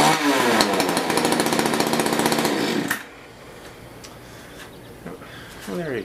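A Mantis rototiller's small gasoline engine, fitted with a replacement carburetor, runs with a loud, rapid buzzing clatter for about three seconds and then cuts out, leaving quiet background noise.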